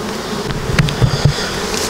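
Buckfast honey bees hum steadily at a strong hive, a continuous close buzz with a few louder passes as individual bees fly near.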